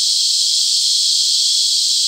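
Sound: cicadas calling

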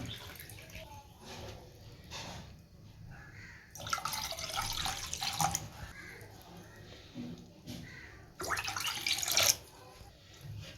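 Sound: water being added to milk for Tirunelveli halwa

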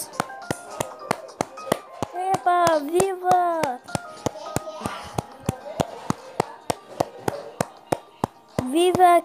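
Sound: children clapping hands

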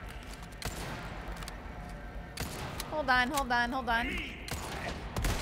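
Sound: gunfire in video game Resident Evil 4 Remake

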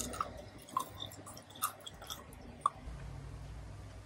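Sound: chewing crunchy caramelized hazelnuts made with erythritol

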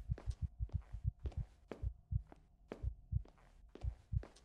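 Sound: accelerating heartbeat sound in video game The Night that Speaks

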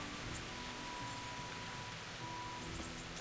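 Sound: rain falling in the video game Kingdom Come: Deliverance

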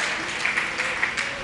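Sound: audience applause at a Jain festival

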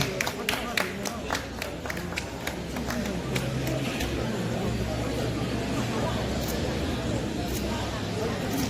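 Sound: applause after MOU signing

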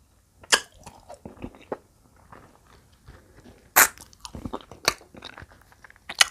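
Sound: crunchy chewing of ripe tamarind

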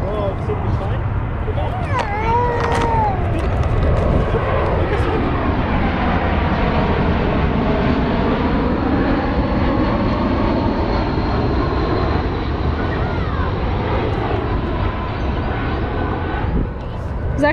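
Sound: airplane flying overhead near wildlife sanctuary

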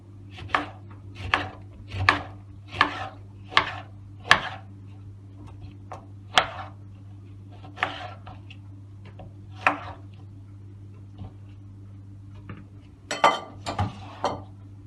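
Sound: chopping lemons

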